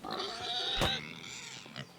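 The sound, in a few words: pig grunting in video game Kingdom Come Deliverance 2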